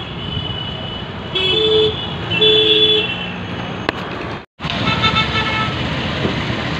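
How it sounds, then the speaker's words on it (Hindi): Busy road traffic outside a bank in India, with engine rumble, a couple of short car horn toots, and steady vehicle noise passing nearby. "बैंक के बाहर भी अच्छा खासा ट्रैफिक है"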